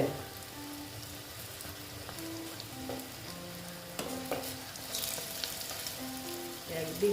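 Pieces of lentil-flour pitha sizzle and crackle in a pan while being flipped, a soft continuous frying hiss with faint scrapes and small clinks, close and fairly quiet.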